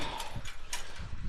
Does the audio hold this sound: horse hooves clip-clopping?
yes